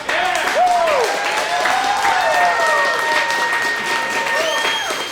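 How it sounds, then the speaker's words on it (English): An open mic audience breaks into sustained applause, dense clapping filling the room, with whoops and cheering voices rising over it throughout. "Round of applause"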